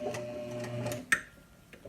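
A straight stitch sewing machine runs briefly over fabric while sewing a small circle on a cheer scrunchie, a soft mechanical whir with light ticking that stops, followed by a sharp click and faint taps.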